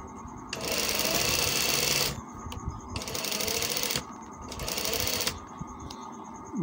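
A sewing machine stitching a kameez whirs in three steady bursts of about one and a half seconds each, close and loud, with short mechanical pauses between runs and no talking.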